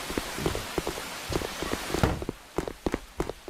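Rain in the video game Eggs For Bart, a steady patter of drops hitting a surface with scattered sharper splashes, heard up close and alone.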